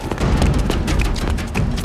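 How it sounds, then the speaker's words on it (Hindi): A gunshot goes off in a dramatized crime scene, heard as a dense burst of sharp booming cracks and thuds that stays loud through the short moment, with no talk over it. "गोली चलने की आवाज कहां से है?"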